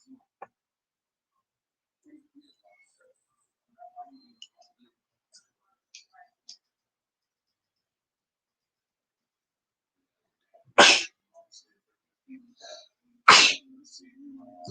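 Two loud, sharp sneezes a few seconds apart break into an otherwise quiet stretch of a casual group livestream chat, with faint clicks and small noises scattered in between.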